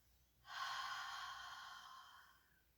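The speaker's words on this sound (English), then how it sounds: "So we're going to breathe in through our nose." A single slow inhalation through the nose during a prenatal breathing exercise, a soft, airy rush that swells quickly, holds steady for about two seconds, then tapers off, close and quiet with no talking.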